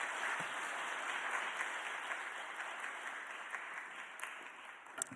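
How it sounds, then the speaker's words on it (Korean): Welcoming applause from a church congregation at a Wednesday evening service, a dense steady wash of many hands clapping that fills the room without pause, with no voices over it. "환영의 박수 맞이하겠습니다"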